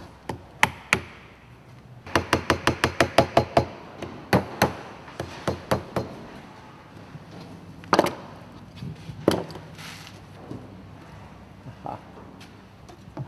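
A radiator cover is prised off with a screwdriver, sounding as sharp knocks and taps, including a quick run of rapid strikes, followed by scattered louder cracks and thuds, close and otherwise quiet.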